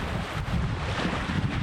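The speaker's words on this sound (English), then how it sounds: "Bit of a windy one today." Wind gusts across a lagoon shore near Shark Bay, a steady, loud rushing buffet with low rumbling microphone wind noise and no voices.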